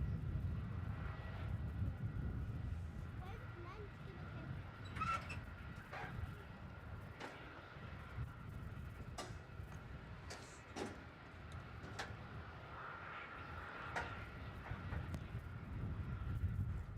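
A Velocity airliner takes off from runway 34 at Melbourne Airport, with a steady distant jet roar spread over a long stretch and a few faint birds and knocks nearby.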